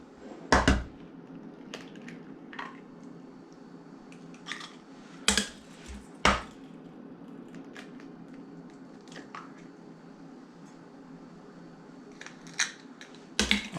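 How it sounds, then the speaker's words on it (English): Eggs cracked on a flat surface and dropped into a bowl for brownie batter: a few sharp, close taps and cracks spaced apart in a quiet kitchen, with light clinks between. "Always crack your eggs on a flat surface."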